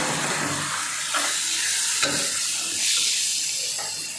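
Quail pieces with ginger-garlic paste sizzle and fry in a pan, a steady close hiss with occasional stirring scrapes throughout.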